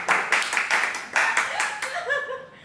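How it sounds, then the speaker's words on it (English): Hand clapping at the start of a talk show recording, several sharp claps struck in a steady counted rhythm close by. The claps fade into a softer tail at the end. "Clap, huh?"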